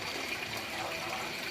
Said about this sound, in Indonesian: Yang ini adalah tempat membuat pancuran air terjun kecil gitu ya